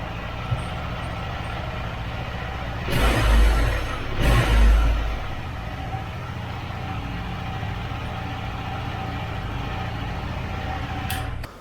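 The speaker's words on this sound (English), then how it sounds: "So that is at the idle stage of engine." A first-generation KTM Adventure 390 motorcycle engine idles with a steady low hum, broken by two brief louder bursts partway through before settling back to an even idle.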